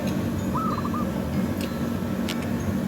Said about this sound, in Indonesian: suara perkutut dari burung perkutut